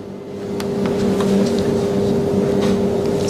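A laboratory centrifuge spins DNA samples at 14,000 rpm, giving a steady, close motor hum with a constant whine that holds level throughout.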